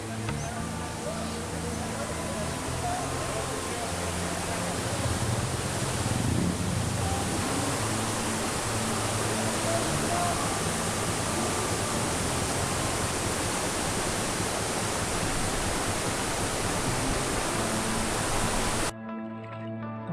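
Daranac Falls sends a dense, even roar of falling water that holds steady and fairly loud for the whole stretch, then cuts off abruptly near the end.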